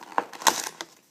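Tape peeled off a 2011 Upper Deck football trading card box, heard as a few short, crackly tearing bursts close by in a quiet room.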